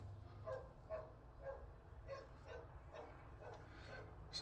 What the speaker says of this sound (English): the goddamn neighbor dog taking it upon himself to have a fucking spaz attack